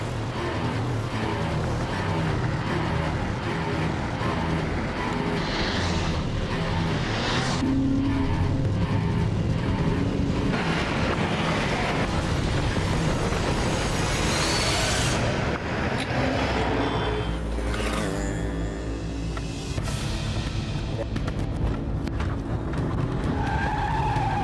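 Cars race and overtake each other in a chase, with loud, continuous engine roar and screeching tire skids throughout, surging and swelling as vehicles speed past.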